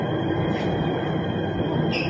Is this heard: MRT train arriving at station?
yes